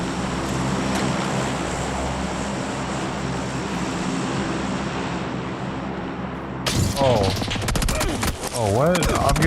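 Gunfire in the video game PUBG: dense bursts of shots with a rolling background roar, loud and continuous for most of the span, then a voice talks over the last few seconds.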